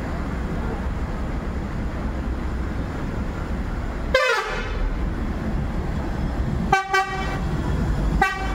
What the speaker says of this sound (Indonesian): Klaksonin kita teman-teman.